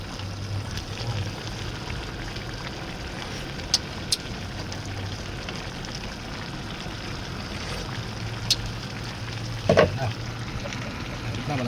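Squash (kalabasa) frying in a pan, a soft, steady sizzle that goes on throughout, with a few faint clinks of utensils and no talk over it.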